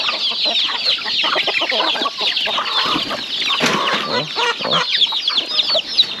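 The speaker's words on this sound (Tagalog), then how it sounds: "Halo-halo itong mga free-range nating manok." Free-range farm chickens cluck and squawk in a busy, overlapping chorus close by, with sharp calls rising throughout and a brief human exclamation.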